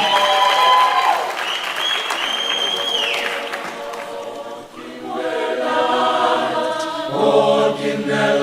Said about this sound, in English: I think we need to applaud to that